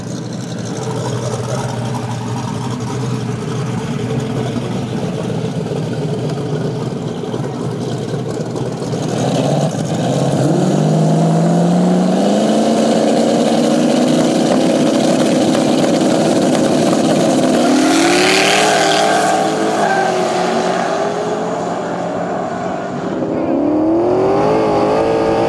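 Turbo LS-swapped Nissan Silvia and a third-generation turbo Firebird run side by side at a rough no-prep drag race, engines droning at idle, then surging louder as both rev and accelerate away with rising pitch, loud and close throughout.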